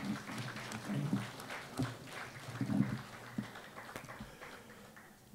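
Applause at a university Olympiad prize ceremony, a faint, scattered clapping from the audience that rises and falls unevenly over a few seconds, thin and distant.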